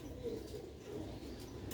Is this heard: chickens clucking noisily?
no